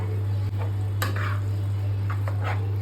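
Beetroot halwa cooks in a pan as milk is poured in, giving a soft steady sizzle with a few light stirring scrapes under a constant low hum, no talking.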